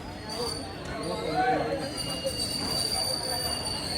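Train noise at Mathura railway station, with rumbling wheels and a high metallic squeal ringing over the din, and a voice talking underneath.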